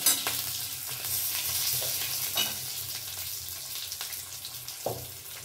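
Two bay leaves and chopped green chili fry in hot oil in a pan for a home-style sabzi dal, a close steady sizzle with occasional stirring clinks and scrapes.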